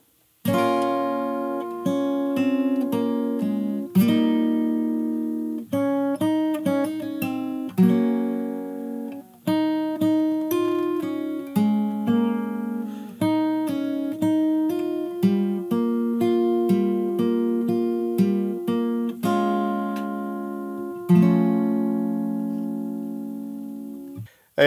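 Fingerstyle acoustic guitar plays a song as a steady, plucked arrangement, bass notes and melody interwoven in a continuous rhythmic flow with brief pauses between phrases, close and clear with no voices.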